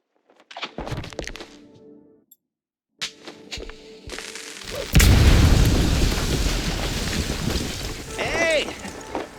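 Firecrackers go off inside a wooden attic in the Mouse P.I. For Hire video game: scattered sharp pops and thumps, a brief pause, then a loud sustained burst of crackling blasts and rumble.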